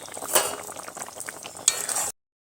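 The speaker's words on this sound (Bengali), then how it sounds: "মাছটা দিয়ে এবার আমি কিছুক্ষণ নাড়াচাড়া করে রান্না করে নেব।" Tangra fish curry being stirred in a pan, a few scraping spatula strokes with two sharper metallic scrapes over light sizzling, close and moderately loud, no talking.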